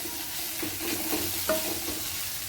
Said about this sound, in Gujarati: આ બધું મિક્સ કરવાનું છે.